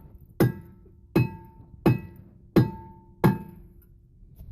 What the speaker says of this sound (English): we'll take our hammer and just hit it